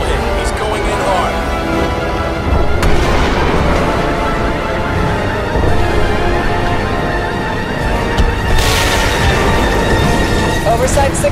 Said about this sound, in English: Missile away. Confirmed missile hit.